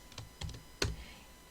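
Three brief bursts of clicky key taps on a computer keyboard, loud against a quiet room, spaced a fraction of a second apart with a short pause between each cluster.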